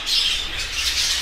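Pet lutino birds, including a red-eyed female, squawk continuously in harsh, raspy bursts close by, filling the short stretch with shrill calls and no talking.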